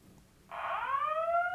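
A fire alarm sounds in a conference hall, a loud electronic tone that starts abruptly after quiet and holds steady with a slight rising sweep, continuing alone to the end.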